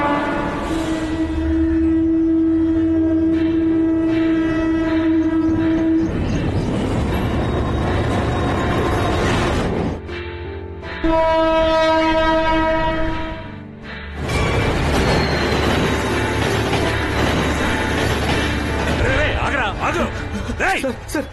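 A train horn blares in long sustained blasts at Taramani railway station in Chennai, broken by brief pauses, with rumbling rail noise and a voice speaking alongside.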